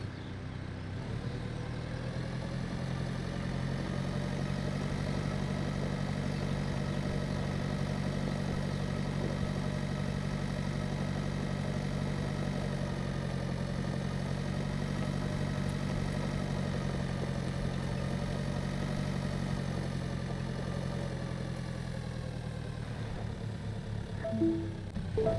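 A tractor engine idles in the Pure Farming 2018 video game, a steady low droning rumble held at an even, fairly loud level for the whole stretch, with a few faint clicks near the end and no talk.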